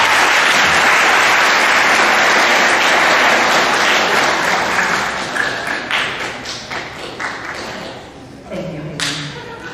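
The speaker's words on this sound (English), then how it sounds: "So please give your coaches and sponsors a round of applause." Audience at a high school spring sports awards assembly applauding coaches and sponsors, full clapping that gradually fades and breaks into scattered claps near the end, with a few louder taps.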